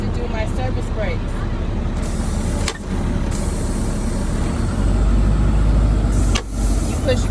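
A truck engine idles and rumbles during a low-gear service brake test, with short hissing bursts from the air brakes, under a person speaking.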